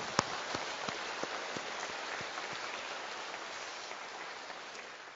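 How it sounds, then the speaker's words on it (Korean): Steady applause from a church congregation, a dense wash of clapping that starts with a few sharp claps and slowly fades, with no voices over it. "우리 격려의 박수 한 번씩 주시기 바랍니다."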